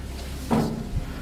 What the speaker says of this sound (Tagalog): Isa sa mga pinto ng kwarto ang bigla na lang sumara.